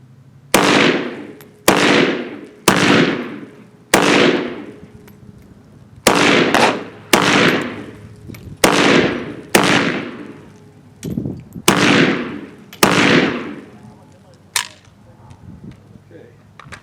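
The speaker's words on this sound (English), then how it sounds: "shooting the AK-47 Zastava NPAP." Loud AK-47 pattern Zastava NPAP rifle shots ring out one by one, about a dozen sharp reports spaced a second or two apart, each with a ringing decay and the later ones slightly fainter.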